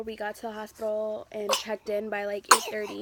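A single short sneeze bursts out twice in quick succession between a woman's sentences, close and fairly loud against her continuous speech.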